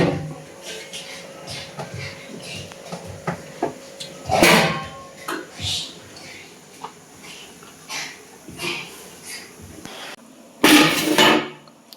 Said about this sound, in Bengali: এই যে বিরিয়ানির হাঁড়ি এখন দমে বসছে।